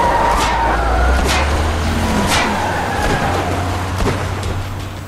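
In Tales from the Borderlands, a car drives away with a loud low engine rumble and rushing road noise, with a few sharp bursts layered over it as the sound slowly fades toward the end.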